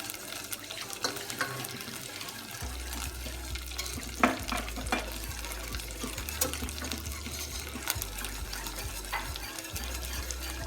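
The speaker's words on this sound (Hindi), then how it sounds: "आपने अच्छे से इसको विस्क करते रहना है।" Milk being whisked into flour for a white sauce in a pan, a steady soft stirring and sloshing with occasional light clinks, continuous and close, with a low hum underneath and no talking.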